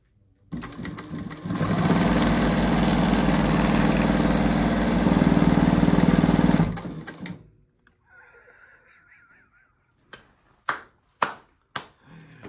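An EVER leather sewing machine motor runs loud and steady for about six seconds, then stops, followed by a faint hum and a few sharp clicks.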